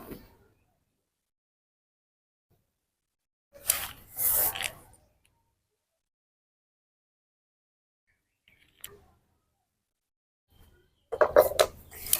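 Fried rotis are cut down the middle in a few short, separate bursts of scraping and slicing against a hard surface, with quiet gaps between them.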